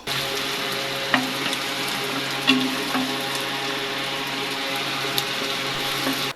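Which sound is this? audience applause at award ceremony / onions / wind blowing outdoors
onions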